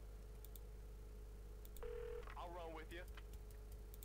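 Phone menu interface tones from the video game Saints Row The Third: a short electronic tone followed by a quick warbling chime, faint over a low background hum.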